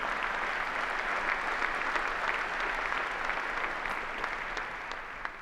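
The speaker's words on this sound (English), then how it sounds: "a round of applause for our ambassadors and for our signers" A round of applause at a university commencement ceremony for ambassadors and signers: continuous, even clapping from a large crowd, sustained throughout without pause.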